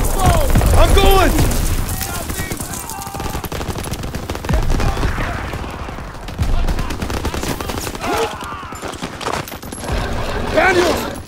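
Dense gunfire from Call of Duty WW2 rattles in heavy machine-gun bursts and single cracks with booming impacts, loud and continuous across the scene, while soldiers shout over the battle.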